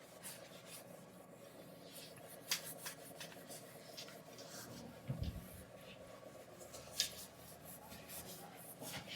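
Chalk or marker scratches and taps on a classroom board as a chemistry teacher writes an electronic configuration. The soft rubbing strokes are broken by a few sharper knocks over a low room hum.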